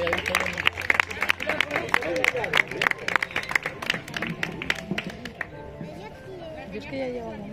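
A crowd at a regional greyhound championship with a mechanical lure in Castilla-La Mancha gives a run of quick, crisp claps over busy chatter and talk. After about five seconds the clapping fades and murmuring voices remain.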